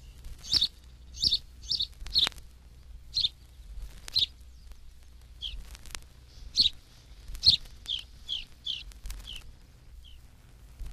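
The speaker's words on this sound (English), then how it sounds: "House or English Sparrow" A House Sparrow gives a series of short, bright chirps in irregular bursts, some rapidly repeated, clear and fairly close against a quiet background.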